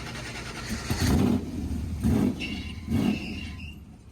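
A race car driven on a street for a test run, its engine revving in three distinct surges about a second apart, each rising then easing back to a steady mid-level rumble.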